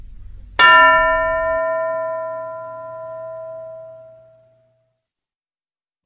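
A single bell in a cartoon classroom is struck once, loud and clear, and its bright ringing tone decays slowly over several seconds into silence.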